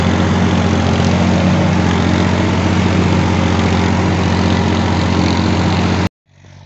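A 2021 Valtra A950R tractor pulling an intermediate disc harrow through farm soil, its engine droning loudly and steadily at a constant pitch before cutting off abruptly near the end.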